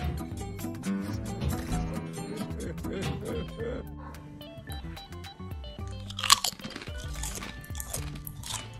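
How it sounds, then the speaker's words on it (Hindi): Crunchy bites and chewing of a burger and french fries, close and fairly loud, with irregular crisp crunches spread through, sharpest near the middle, over a busy background. "अब मैंने और आपने फ्रेंच फ्राइज भी खा लिए, बर्गर भी खा लिया"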